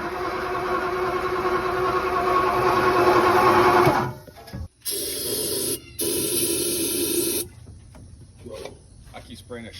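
Spray bursts aimed into the engine of a 1955 Ford Fairlane while it is cranked over, a steady hissing drone that breaks into several short cutoffs and restarts before trailing into quieter clatter.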